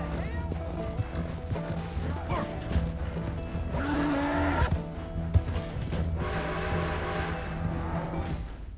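Rhythmic hoofbeats of a galloping horse in Red Dead Redemption 2 over a music score, with a voice speaking briefly in between.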